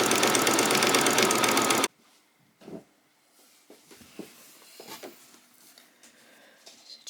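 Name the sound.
sewing machine sewing a back stitch on doll's top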